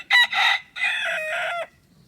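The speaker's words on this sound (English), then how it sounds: "the chickens seem to be enjoying their new run" A rooster near the chickens' new run gives a loud, close crow in a few broken, drawn-out phrases, with nothing else heard.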